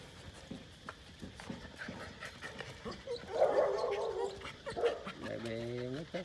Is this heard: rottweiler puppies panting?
yes